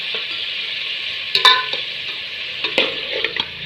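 Mutton pieces with turmeric and salt being stirred in a pot, a steady frying hiss running throughout with a few sharper scraping clanks of the spoon near the middle and end.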